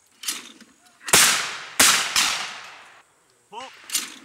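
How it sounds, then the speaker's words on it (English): Shotgun blasts ring out at a sporting clays shoot. Several sharp, loud reports echo and decay one after another, and a brief voiced call comes between shots near the end. "Seems like I'm shooting just right, but they don't break."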